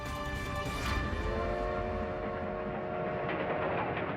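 A train runs steadily throughout, a continuous rumble with rail noise and sustained metallic tones, heard up close and alone.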